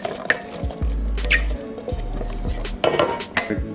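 Apples scooped from a container into a mixing bowl of batter, with a few close clinks of a utensil against the bowl, soft wet squishes and a dull clatter of kitchenware, no voices.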